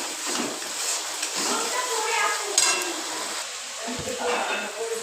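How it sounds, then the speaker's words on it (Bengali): Spice masala frying in a pan sizzles steadily at moderate volume, with occasional stirring scrapes and a light metallic clink, while a person talks over it. "মশলাটা ভেজে নিতে হবে ভালো করে।"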